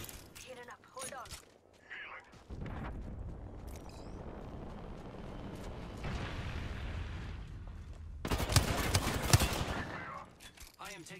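Gunfire in the video game Apex Legends, Arenas mode, with sustained bursts of shots and impacts running most of the clip under a player's voice, swelling to a louder, denser volley near the end.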